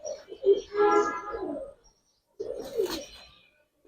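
Pigeons cooing in a loft, two soft, throaty rolling coos with a pause between them, close and moderately loud.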